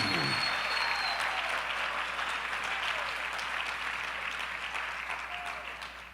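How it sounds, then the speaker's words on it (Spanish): Sustained applause from a church congregation, broad steady clapping that holds at full strength before slowly tapering toward the end, with no speech over it. "Denle un aplauso al Rey."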